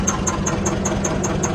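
A 1977 Bobcat 631 skid steer engine runs steadily and close by with a rough mechanical rumble, its throttle working, and a regular, rapid ticking knock repeats throughout.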